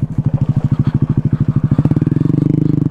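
A Honda Grom motorcycle being ridden, its small single-cylinder engine thumping in a close, loud rapid pulse that quickens and smooths as the revs climb near the end.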